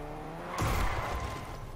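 A car engine hums in Fortnite, then a sudden louder rush of engine and tire noise as the vehicle accelerates away.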